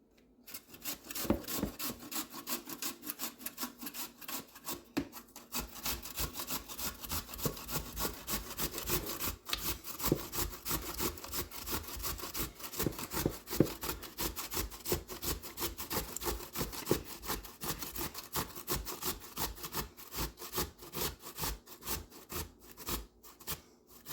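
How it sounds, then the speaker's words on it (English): Potatoes are scraped and shredded for potato pancakes, heard as rapid rhythmic rasping strokes against a grater, close and continuous with short pauses and no speech. "Now we're gonna scrape the potatoes."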